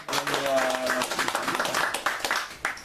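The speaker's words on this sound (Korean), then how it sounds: "하나님께 박수로 영광을 드리겠습니다." Church congregation at a Saturday service clapping together: steady dense applause throughout, with a voice speaking over it near the start.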